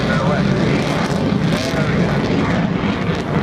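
Loud, continuous roar of a jet aircraft in afterburner accelerating away at the Farnborough 2014 airshow, a broad steady rumble that fills the whole stretch.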